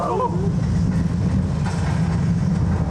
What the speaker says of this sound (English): It is electrically used to power the train through here.